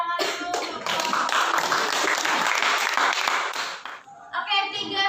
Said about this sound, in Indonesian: kalau sudah kasih tepuk tangan dulu untuk kelompok